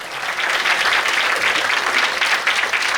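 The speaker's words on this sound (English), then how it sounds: "A round of applause," An audience at a televised youth leadership competition in Ghana claps in a dense, lively round of applause that stays loud and steady from start to finish.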